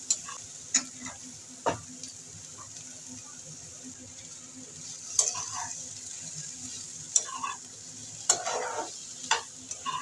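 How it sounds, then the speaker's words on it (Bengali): Lentils and pointed gourd (potol) frying together in a pan give a quiet, steady sizzle, broken by sharp spatula clicks and scrapes against the pan at irregular intervals as they are stirred. "ডাল আর পটলটাকে আমি একসঙ্গে নাড়িয়ে চাড়িয়ে নিয়ে জল দিয়ে দেবো"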